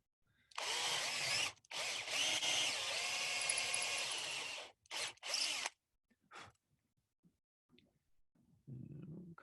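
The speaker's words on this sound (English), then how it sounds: "So let's put a piece of tape on the drill bit, and that will also help us clear the chips as we get close to our depth stop." A drill bores a mortise into wood, its bit wrapped in tape to mark depth. It whines steadily for about four seconds, then gives two short bursts before faint knocks and quiet.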